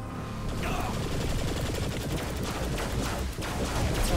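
Continuous automatic gunfire rattles in the video game Saints Row: The Third Remastered, a dense, loud barrage of rapid shots with no break across the whole stretch.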